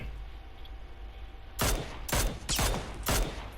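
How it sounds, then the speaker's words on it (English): FAMAS rifle fire in the video game PUBG: four loud, sharp bursts of gunfire spaced roughly half a second apart after a quiet stretch of ambient background. "I just got a few shots on him with the FAMAS as well."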